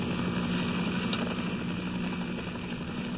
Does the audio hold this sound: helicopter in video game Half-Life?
yes